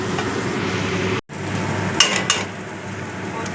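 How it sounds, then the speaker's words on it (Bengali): Spinach leaves and poppy seeds frying in a pan give a steady close sizzle, broken by a brief cut and a couple of light clinks of a utensil against the pan. "পোস্তটা ভালো করে মিশিয়ে দিলাম। এভাবে কিছুক্ষণ আরো ভাজা করে নেব।"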